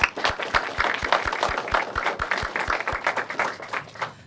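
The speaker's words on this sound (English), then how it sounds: "Let's give yourselves a round of applause." Young leaders of a junior mayors' association applaud themselves at a presentation day, a thin scatter of hands plus one loud, regular near clap keeping a steady beat throughout.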